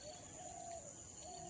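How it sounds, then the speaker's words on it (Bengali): Faint bird calls with soft cooing notes drift over a steady background hiss at sunrise, distant and intermittent throughout. "সঙ্গে তো পাখির ডাক আছেই"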